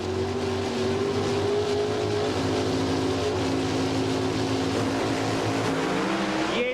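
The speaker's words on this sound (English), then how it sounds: "With a nice advantage off the starting line, but his car breaks down." A red Pontiac drag racing car at an NHRA event roars off the starting line, its engine note loud and sustained, with rising pitch as it launches and pulls away down the track.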